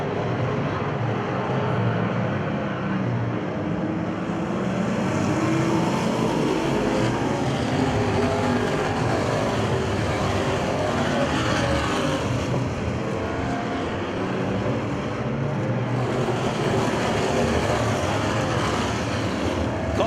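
Stock cars roar around a Winston track in a continuous, dense engine drone, loud and steady throughout without clear breaks, as a pack of racers passes in a constant wash of motor noise.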